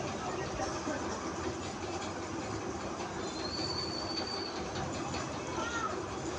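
A train rumbles and rolls into Bolpur station, wheels and carriages giving a dense continuous noise with a brief high squeal, heard from inside the carriage with faint voices around.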